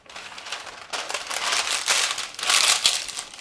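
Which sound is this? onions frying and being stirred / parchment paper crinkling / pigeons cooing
parchment paper crinkling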